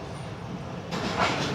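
A train hauled by locomotive ZCU 63 rolls past the Kotri Junction platform, a steady rumble that swells louder and brighter partway through as the cars draw nearer.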